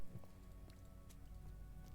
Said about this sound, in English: I do love the rain up here.